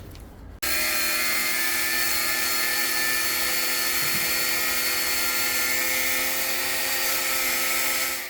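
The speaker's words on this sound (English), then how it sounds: "now just to cut the threaded bar" After a brief quiet moment, a power tool cuts 12mm threaded bar for a TRS300RR trials bike repair, starting abruptly and holding a loud, steady, high whining grind to the end.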